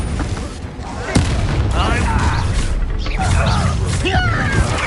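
A Confringo fire-blast spell explodes in Hogwarts Legacy on PlayStation 5, a sharp boom landing about a second in amid a loud, continuous battle din of crackling magic and impacts, with voices shouting over it.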